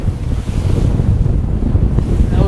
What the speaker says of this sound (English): we're getting wet a little bit just because of the wind and the size of these waves